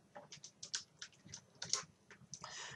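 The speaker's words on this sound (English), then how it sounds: "Let's type COUNTA, and then we select the range A1" Typing on a computer keyboard while entering an Excel COUNTA formula and range: a quick, irregular run of close, crisp key clicks, with a denser burst of keystrokes at the end.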